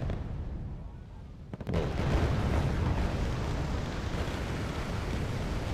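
A sudden heavy boom from bombing in the war strategy game Wargame Red Dragon rolls into a loud, sustained rumble of explosions, over a dense battle din, with a brief startled voice.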